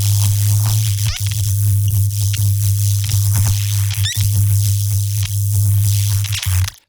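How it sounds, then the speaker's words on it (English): Electric zap preset from the SFX Pro 9000 synth with randomized sparks, a constant loud buzzing hum broken by irregular crackling spark bursts and sharp snaps throughout, ending abruptly. "And you can increase the kind of randomization and sparks with the mod wheel."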